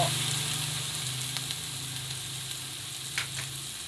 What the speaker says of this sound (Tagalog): lagay natin tong 1-4 cup na toyo